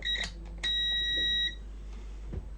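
A gaming PC motherboard with no picture gives diagnostic beeps: a short beep, then a long steady electronic tone lasting about a second, followed by a faint click.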